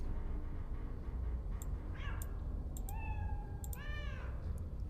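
A cat in the video game Iron Nest meows two or three times, close and clear, over a steady low hum with occasional faint clicks.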